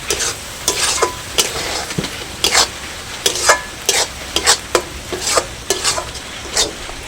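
Spice masala with cashew paste for butter chicken stirred and fried in a pan: steady sizzling throughout, punctuated by sharp scrapes of a spoon against the pan at an irregular, brisk pace.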